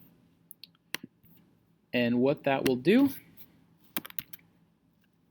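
Computer mouse clicks and keyboard key presses during digital collage work, several sharp isolated clicks before and after a short stretch of someone speaking, quiet and close.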